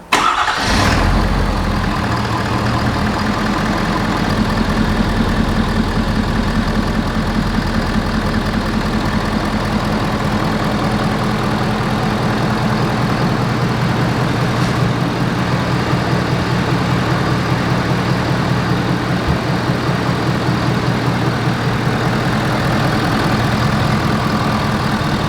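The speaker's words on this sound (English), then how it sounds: "Now from an idle, there was a little bit more of like a throaty sound coming from the turbo." A Ford F250 6.7 Powerstroke diesel pickup fitted with a large aftermarket intake: the engine catches with a brief starter burst, then settles into a loud, steady, throaty idle with a turbo hiss, close by and continuous.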